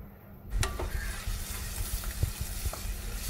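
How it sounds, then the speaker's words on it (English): Ginger and garlic being stirred in a pan for chicken noodle soup: a steady sizzle with a few soft scraping knocks of the utensil, close and moderately quiet, with no talking. "Give that a slight stir."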